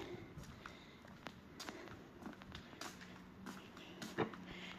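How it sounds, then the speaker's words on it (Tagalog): Footsteps of a person walking to work in the morning, a steady series of light, fairly close steps with scattered sharper scuffs over a constant outdoor background hum. "Naririnig niyo po ang yabag ng aking mga paa."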